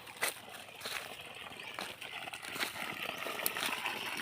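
Water rushes from a long garden hose with a steady hiss and splatter, nearby and moderately loud, while faint voices talk now and then.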